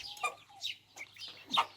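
A few short, throaty clucks from a chicken, close by and fairly clear, with brief gaps between calls.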